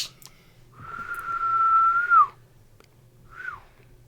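A single long, level whistle that bends downward at the end, then a short falling whistle after a pause, heard close with no speech.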